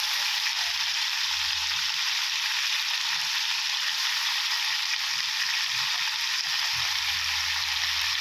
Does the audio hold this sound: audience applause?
no